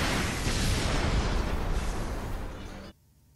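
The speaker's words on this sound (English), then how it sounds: "Fire the cannon." Cannon fire in the Fuga: Melodies of Steel video game on the New Game Plus route, a dense, loud sustained roar of blasts and rumble lasting nearly three seconds before cutting off to near silence.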